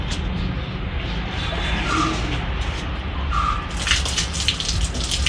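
Water from an electric pump motor's outlet falls in a continuous close splashing gush, steady and fairly loud throughout the short stretch.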